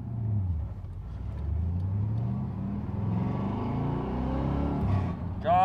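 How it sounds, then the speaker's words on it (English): A 1980 Chevrolet Corvette C3 V8 pulls away and accelerates. Its deep engine rumble climbs in pitch through the gears, with a steady low drone heard from inside the car. "God, I love the sound of that V8."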